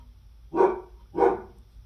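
A pet dog indoors gives two loud, clear barks about half a second apart, close by, with near silence between them.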